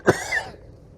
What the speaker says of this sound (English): this cough's not going away